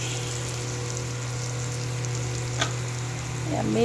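Prawn pickle being stirred so tamarind gravy coats it, giving a steady soft sizzle of frying in oil with a spoon scrape near the end, close and continuous, no talking.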